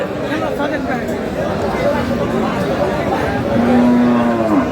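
Dairy cows and calves at Aftabganj cattle market in Dinajpur, with a loud, drawn-out moo rising near the end over steady crowd chatter and market hubbub.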